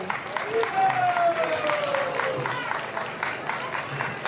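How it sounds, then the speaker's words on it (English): Applause from an outdoor festival crowd in a city park after a play, broad and steady throughout, with crowd noise and a speaking voice faintly underneath. "Give another round of applause for this amazing play"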